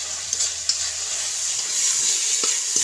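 Ginger paste and tomato paste masala sizzles steadily in a pan for a village-style jackfruit kofta, with a constant hiss of frying broken by a few soft scrapes and knocks of a stirring spoon, no voices.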